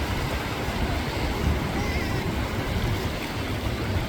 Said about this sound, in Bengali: দেখুন জলের ঢেউগুলো আসছে